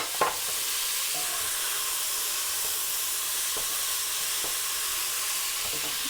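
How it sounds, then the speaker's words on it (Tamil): Ghee poured into a pot of mutton biryani sizzles with a steady, even frying hiss that keeps going throughout, with a few faint clinks of a ladle against the pot. "இப்போ இந்த கரண்டியாலேயே ஒரு கரண்டி நெய்யும் விட்டு விடுங்க."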